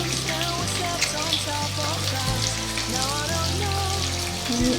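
Eggplant and other vegetable pieces frying in oil, a continuous close sizzle under background music.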